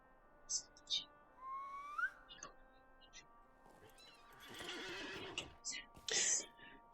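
Steed of Rivendell horse mount in the video game LOTRO, a loud whinny with faint hoof clatter among scattered short chirps and game effects, with no talking over it.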